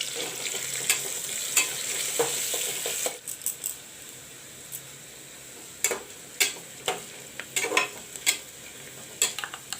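Onions and bay leaves fry in oil for a soybean, chana dal and potato curry. Loud sizzling fills the first three seconds, then it settles lower as repeated metallic spatula taps and scrapes ring out close by, with no voices.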